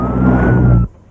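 An ambulance siren wails in a steady, loud, close tone for just under a second, then cuts off abruptly into near silence.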